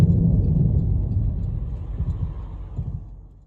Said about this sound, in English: how sounds a bad wheel bearing